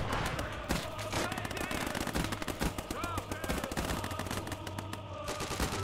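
Machine gun fire in the WWII strategy game Call to Arms: Gates of Ostfront, a steady rattle of rapid automatic bursts amid battlefield din and other gunfire, continuous and close throughout, with faint voices underneath.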